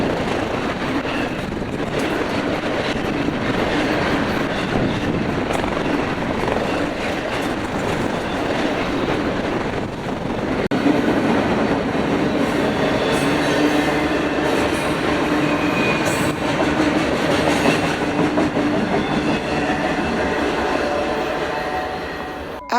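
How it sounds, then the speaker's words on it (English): A southbound FrontRunner commuter train arrives at Roy station, a loud sustained rumble with rhythmic clatter of wheels over rail joints and occasional squeal, growing steadier as it pulls in. "After our southbound frontrunner arrived into the Roy station"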